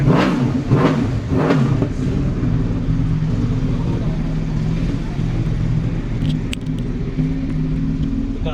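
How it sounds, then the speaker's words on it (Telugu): A superbike at a Triumph event, alongside a BMW M1000RR and Ducati Panigale V4, fires up with a few sharp revving blips, then settles into a loud, steady deep idle rumble close by. "బైక్ ఆన్ చేస్తాను."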